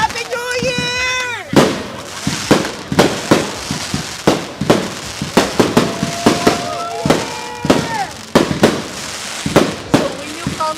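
Fireworks and firecrackers on New Year's Eve, loud, close sharp bangs and crackling bursts in rapid irregular succession, with whistling rockets rising and people's voices heard between the blasts.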